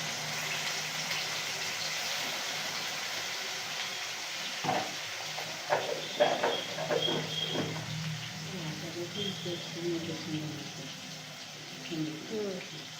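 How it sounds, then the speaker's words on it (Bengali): Onion paste frying in a wok for a dhaba-style chicken dish, a steady sizzle broken by sharper crackles and stirring noises, with people talking. "মা এখন কড়ায় পেঁয়াজ ভাজবে"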